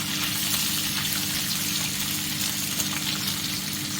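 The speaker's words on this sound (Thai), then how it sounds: "เสียงนี้ก็คือเสียงไมโครเวฟนึ่งข้าวอยู่นะ" A steady, unbroken hiss and low hum of a microwave steaming rice, constant and moderately loud with no speech.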